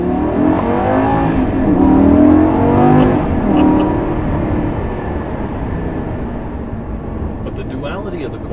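A 2009 Lamborghini Gallardo LP560 engine revs hard and accelerates, its loud, rising growl peaking early and then easing into a steadier drone, with a voice talking over it.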